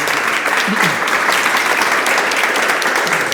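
A crowd at a legal discussion event applauds loudly and steadily, a thick wash of clapping hands close by that holds for the whole few seconds.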